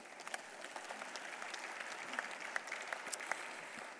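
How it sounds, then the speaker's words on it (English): Audience at a charity award event claps with steady, moderately quiet applause, individual claps standing out within the patter, heard from a little distance throughout. "let's get a round of applause for that"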